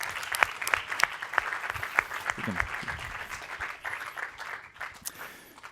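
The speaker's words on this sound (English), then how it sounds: "So thank you and applause to all of you" Applause for a jury at the ChangeNOW 2020 Climathon Awards, a dense round of clapping from a sizeable crowd with a few sharp individual claps standing out, fading slightly toward the end while a voice speaks briefly.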